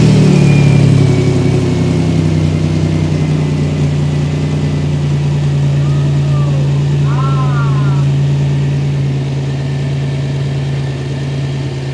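A newly installed car engine idles on its first startup, a loud steady low drone with a faint rise near the start, while people talk over it.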